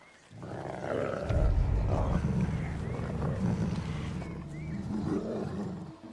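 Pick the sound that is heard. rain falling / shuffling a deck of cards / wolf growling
wolf growling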